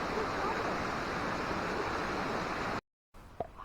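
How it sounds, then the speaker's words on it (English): A small waterfall in a forest of cedars at the end of a boardwalk gives a steady, loud, broadband rush of falling water up close that cuts off abruptly near the end, followed by faint ambience and a brief tap. "But here's a little waterfall."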